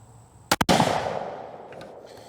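A single 264 Win Mag rifle shot fired at a target while sighting in, a loud close blast with a quick double crack followed by a long rolling echo that fades over about two seconds.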